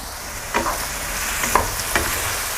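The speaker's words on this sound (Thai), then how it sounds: "คนคลุกเคล้าให้เข้ากัน" Pork cartilage with black pepper, onion and chili peppers sizzles in a pan, with a steady frying hiss broken by a few sharp scraping strokes as it is stirred, close by and without talking.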